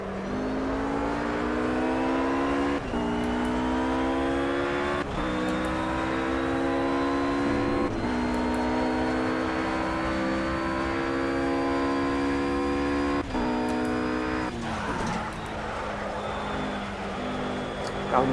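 Porsche GT3 engine in the Project Cars racing game, a loud continuous whine climbing through repeated gear changes with brief dips at each shift, sustained over the whole stretch.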